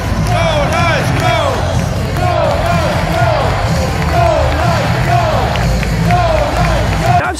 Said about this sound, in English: Four unanswered goals, literally minutes apart, whipped the crowd up into a frenzy, and boy, what an atmosphere it is.